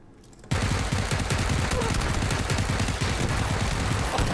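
Sustained gunfire in PUBG starts abruptly after a quiet moment and continues as dense, rapid, loud shots that blur into a steady rattling barrage.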